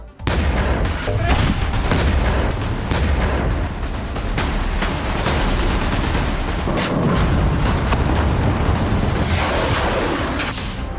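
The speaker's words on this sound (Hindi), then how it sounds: "इजराइल ने कल यमन में ताबड़तोड़ हवाई हमले किए।" Israeli airstrikes on Houthi targets in Yemen fill the air with continuous loud booms and heavy rumbling blasts, dense and sustained throughout with no speech.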